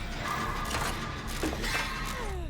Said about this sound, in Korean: 발전기 돌려 임마